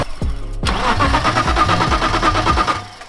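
A car engine cranks with a rhythmic, chugging starter churn, loud and close, running for a few seconds without catching; a BMW M54 engine swapped into a Volvo 940.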